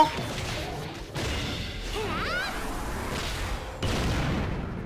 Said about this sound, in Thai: เฮ้ยระเบิดแมวเหมียว